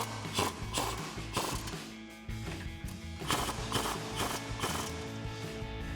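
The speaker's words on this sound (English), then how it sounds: "Now we can grab our 18mm socket and tighten down our two bolts." A ratchet with an 18mm socket tightens the caliper bolts on a 2012-2020 Dodge Challenger during a PowerStop Z26 brake kit install, giving quick repeated clicking bursts close up with no talk.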